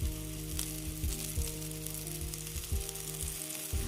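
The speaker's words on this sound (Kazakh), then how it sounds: "Малып болғаннан кейін қызып тұрған сұйық майға екі жағынан қызартып қуырамыз." Flour-coated cutlets fry in hot oil, giving a steady, close sizzle with crackling spatters and soft clatters from the pan throughout, with no talk.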